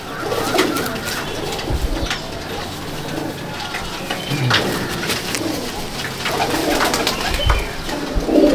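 Pigeons in a loft give soft, repeated low coos over a steady background, with occasional rustles and faint mechanical clicks and no talking.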